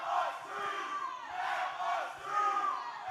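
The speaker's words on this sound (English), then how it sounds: "listen to this crowd chanting" A professional wrestling crowd at a live OVW show chants and roars in rhythmic surging waves, loud and packed, with rising and falling crowd voices and no clear commentary over it.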